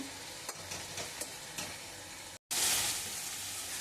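A spicy tomato gravy being sautéed in a pan gives a close, continuous sizzle with repeated stirring scrapes, briefly cut off and then resuming louder and hissier, with no one speaking.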